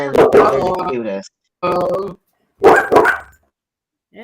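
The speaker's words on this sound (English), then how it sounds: "Oh, mine's barking too." Dogs bark in several short bursts during a rescue-themed live show, loud and close, with the tail of a faint yip near the end; people talk around the barking.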